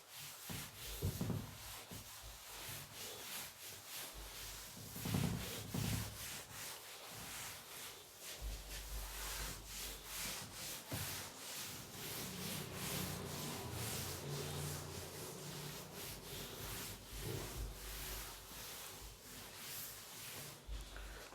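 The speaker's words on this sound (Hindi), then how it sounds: "पहले मैं इसको रब कर देता हूं।" A duster or cloth rubs writing off a classroom board during a physics lesson, a long run of soft scratchy back-and-forth strokes, quiet and close, with no talking.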